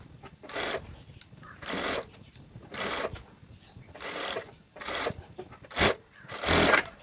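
A sewing machine runs in several short bursts while stitching a round-neck maxi dress, each whirring run lasting about half a second with quiet gaps between, close by and without talk.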